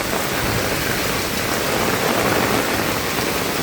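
Heavy, unrelenting rain pours down outdoors during an evening downpour on a flooding, potholed road, a dense, even hiss of drops striking surfaces with no voices.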